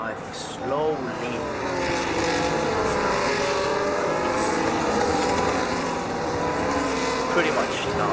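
Several race cars in the F1 25 video game run close behind the safety car, a steady layered engine drone with pitch sweeps as cars pass, under commentary talk throughout.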